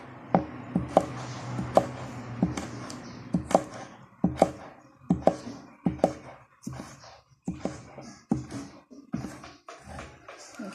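A knife cuts a squash or pumpkin in half with a long series of sharp, close thuds and chops against a board, irregular but frequent, with small scraping sounds between strokes and no talk.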